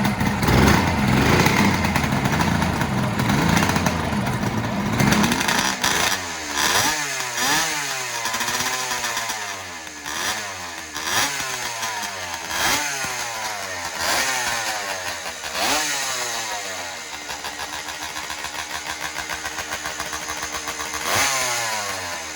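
A two-stroke motorcycle engine with freshly tuned jetting idles roughly, then revs repeatedly in crisp rising and falling bursts, loud and close, about a dozen blips in steady rhythm.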